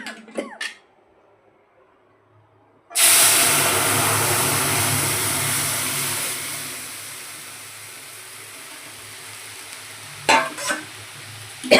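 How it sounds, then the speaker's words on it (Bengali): Lentils get tempered in hot oil: after a quiet start with a few clinks, a sudden loud burst of sizzling hiss erupts and slowly fades, followed by a couple of utensil knocks near the end. "চলো ডালটাকে ফোড়ন দিয়ে দিই"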